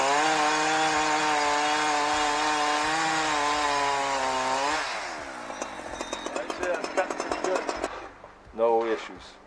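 A Husqvarna 372 chainsaw with freshly filed rakers buzzes loudly, its engine pitch sagging as it bogs into wood on a DIY Alaskan mill, then drops to idle sputters and a final brief rev.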